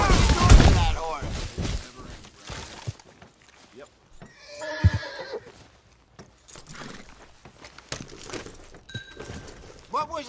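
A horse whinnies loudly partway through in the video game Red Dead Redemption 2, amid scattered clatter and game sounds, with people talking around it.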